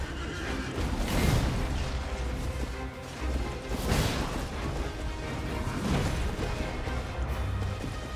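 Horse neighing loudly inside Elden Ring, repeated whinnies rising over a dense, rumbling game soundscape with crashing impacts and occasional hoof clatter, no talk.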